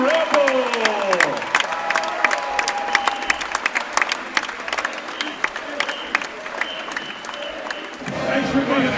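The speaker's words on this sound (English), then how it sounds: "One more round of applause for the legend, Larry Ribble" A home crowd at a varsity high school basketball game applauds with dense, continuous clapping and a voice over the public address near the start, fading somewhat toward the end.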